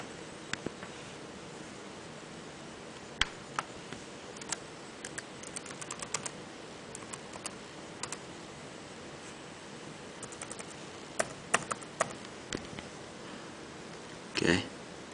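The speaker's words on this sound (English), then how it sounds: "I'll type in my Apple ID." Sparse, faint taps and clicks as an Apple ID is entered on an iPod touch 4G touchscreen, irregular single ticks over a quiet hiss, ending with a brief rustle.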